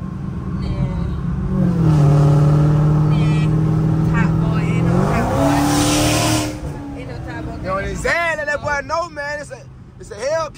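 A Dodge Challenger Hellcat Redeye pulls away from a red light, its engine note climbing steadily and then rising sharply. Tires squeal loudly as it peels off, and people talk excitedly over the sound toward the end.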